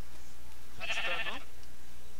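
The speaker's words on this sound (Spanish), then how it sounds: "¿Por qué chingados hay ovejas ahí?" A sheep in the Minecraft video game gives a single short, bright bleat, loud and clear against a quiet background.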